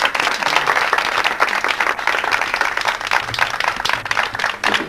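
Loud, steady applause from a wedding gathering welcoming a preacher, dense clapping sustained throughout without pause.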